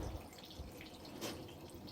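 Clean water runs and trickles faintly into a container, a soft, close splashing with a slightly stronger gush near the middle and no talking.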